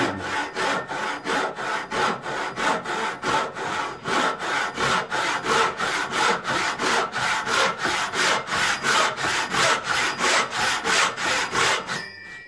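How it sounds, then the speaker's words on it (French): A hand saw cuts through wood for a hand-cut mortise and tenon joint in fast, regular back-and-forth strokes, rhythmic rasping repeated steadily and close up, ending abruptly. "Plus je vais vite, j'ai une meilleure fluidité dans le geste en fait, en allant un peu plus vite dans le coup de scie."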